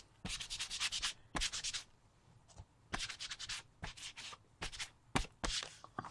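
Paint being rubbed by hand into a faux leather journal cover, making dry, scratchy sanding strokes in quick bursts with short pauses between them, close and fairly quiet.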